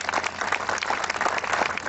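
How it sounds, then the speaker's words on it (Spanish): A crowd at a political campaign event in Chiapas gives loud, continuous applause, many hands clapping together throughout. "para quien pido un fuerte aplauso."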